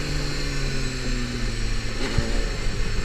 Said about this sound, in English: That's the sound of running out of petrol again.